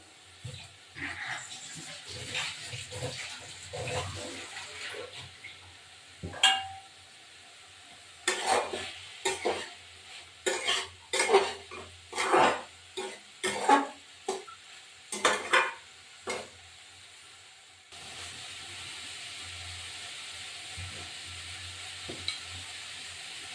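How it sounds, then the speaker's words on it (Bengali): Spice paste (masala) being sautéed and stirred in a pan for a Bengali fig curry with prawns: bursts of scraping stirs against the pan over a low sizzle, irregular and close, with a steadier frying hiss near the end. "এবার এটা নামিয়ে এইটা মশলাটা কষাবো"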